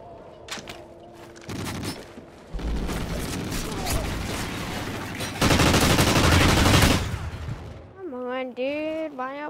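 Rapid automatic gunfire from a Call of Duty: Ghosts multiplayer match on the Freight map, dense bursts and booms filling most of the stretch, loudest near the end before a voice briefly speaks over it.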